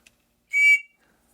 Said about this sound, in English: High-pitched whistle.